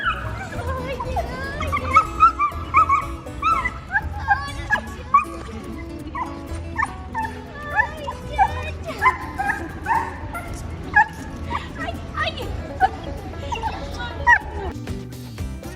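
Dogs yip, whimper and bark excitedly while reuniting with their owners after a long separation, the cries coming in short, repeated bursts over continuous music and background voices.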